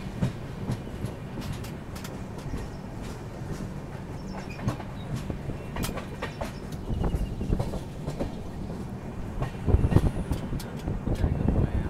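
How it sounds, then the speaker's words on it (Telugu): A train pulls into Kachiguda railway station, a long steady rumble with clattering wheel clicks and scattered metallic squeals, growing louder near the end, under wind noise on the microphone. "మనమైతే వచ్చేసినాము కాచిగూడ రైల్వే స్టేషన్కి"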